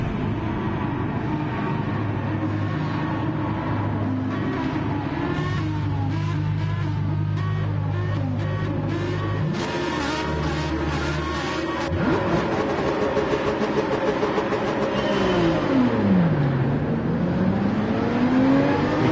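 A Porsche 911 in Gran Turismo 7 pulls away from a race start at the Nürburgring, its engine revving loud and rising through a long first gear, with whirring as other cars accelerate close by.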